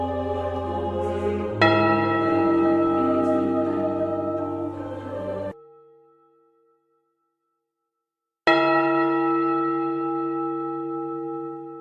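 A church tower bell in a town centre tolls with deep, long-ringing strokes that decay slowly, a silent gap falling between the later strikes.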